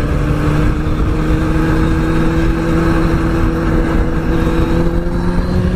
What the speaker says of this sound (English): I love riding on the freeway with my bike.